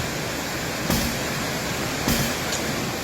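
Pha Daeng waterfall in Ratchaburi, Thailand, a steady broadband rush of falling water that runs unbroken and fairly loud, with a couple of brief bumps in the noise.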